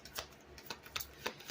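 A deck of tarot cards is shuffled by hand, with soft repeated riffling bursts at an uneven rhythm, close but faint, and no talking over them.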